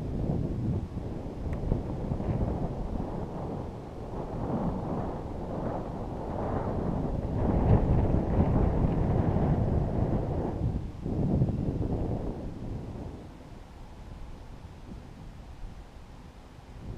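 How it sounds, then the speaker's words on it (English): Gusty wind buffets an outdoor microphone while an RC F-16 model jet flies, producing a rough low roar that swells in the middle and eases toward the end. "That wind's pushing me over."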